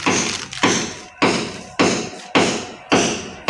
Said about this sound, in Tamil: மேலே வேற வீடு கட்டுறாங்க நம்ம ஹவுஸ் ஓனர் அம்மா. அது சவுண்டு வந்துட்டே இருக்குது.